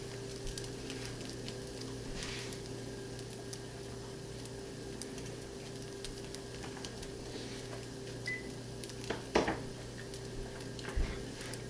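Cheese curds and a grilled cheese sandwich fry quietly in a pan, giving off a soft, steady low sizzle with a faint hum underneath and a few small scrapes and clicks near the end.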